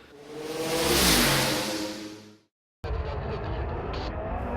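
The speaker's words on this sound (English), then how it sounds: "Race 2 start for the Class A cars" Class A VW Challenge race cars rev and accelerate off the line at a race start at Redstar, a loud engine roar that swells and fades, then after a short gap a second burst of nearby engine noise.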